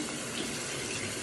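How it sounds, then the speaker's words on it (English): Water running and splashing as a makeup brush is squeezed out over a sink, a short continuous gush of liquid heard close and alone. "squeeze out any excess water"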